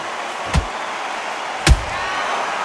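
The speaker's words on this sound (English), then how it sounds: "They exchange punches." Two heavy punches landing in the Undisputed boxing video game, separate dull thumps about a second apart over a steady crowd-like background hiss.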